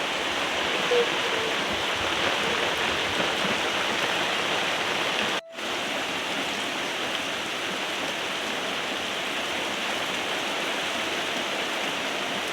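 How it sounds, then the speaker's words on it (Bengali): Steady rain falling in a Bangladeshi village: a continuous dense hiss of drops at even loudness throughout, with a brief dropout partway through. "বৃষ্টি পড়তেছে"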